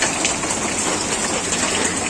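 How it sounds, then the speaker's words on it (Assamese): Steady heavy rain pours down in a continuous broadband hiss, close and loud without pause, with no voices over it. "আৰু এতিয়া পুৰা বৰষুণ হৈ আছে"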